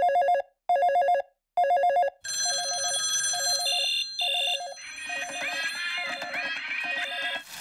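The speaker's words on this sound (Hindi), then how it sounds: "रुको मैं ऑगी को फोन करती हूँ।" Telephone ringing in a Hindi-dubbed Oggy and the Cockroaches cartoon: three loud, evenly spaced electronic bursts, then a steadier repeating ring pattern under busy cartoon music and effects.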